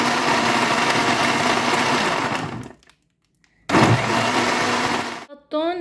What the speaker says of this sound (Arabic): هلا بضيفهم بالخلاط فوق المي والحليب وبخلطهم لمدة 10 ثواني تمام